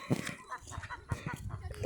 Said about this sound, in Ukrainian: Гусі біжать!